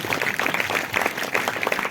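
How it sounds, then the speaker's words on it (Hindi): Congregation clapping at a Sunday church meeting: a brief, dense burst of applause from many hands, moderately loud and fairly close, with no speech over it. "हाँ, उस बहन के लिए जोरदार तालियां बजाएं।"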